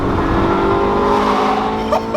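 Ferrari 458 Spider engine screaming near 8,000 RPM, a loud, continuous high-pitched wail heard from inside the car with a brief shift blip at the end.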